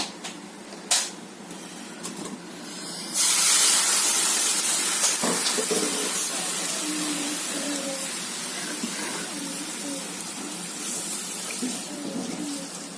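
Half a litre of boiled cow's milk poured into a pan of carrots for carrot payasam, a steady, close liquid rush that starts suddenly after a few quiet seconds and continues evenly to the end, with no talking.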